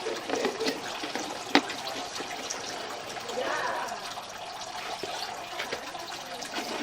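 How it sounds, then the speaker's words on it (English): Water running through ABS plastic drain pipes and fittings during a home inspection, a continuous rushing trickle with a brief knock and a swelling gush midway, under some background voice. "And we have more water running."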